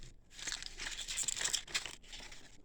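Crinkling and rustling of sandpaper sheets from a dollhouse miniature finishing kit, handled up close in quick, uneven bursts with no talking.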